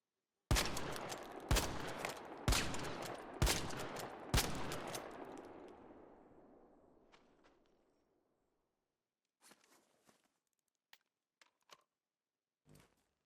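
Il Toro shotgun in ARC Raiders fires five loud, evenly spaced blasts at a wall, each booming shot trailing into a long decaying echo, followed by faint scattered clicks and handling sounds.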